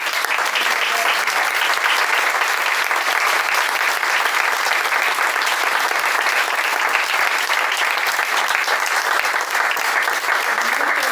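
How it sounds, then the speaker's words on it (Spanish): An audience at a book presentation on shamanic imagery claps in a long, even wash of applause that holds at a steady level throughout, with no voices rising above it. "les pido un aplauso inmenso"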